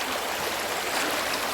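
Mountain water flows steadily through a hose line, a dense, even hiss and rush with no pauses, moderately loud and close.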